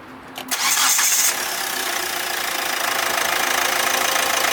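A Hyundai Creta 1.6 litre diesel engine cranks and catches with a loud burst, then settles into a steady, close idle with a gritty diesel clatter.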